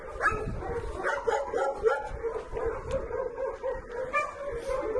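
A dog yips and barks repeatedly in short, excited bursts mixed with whimpering, fairly close and continuous throughout.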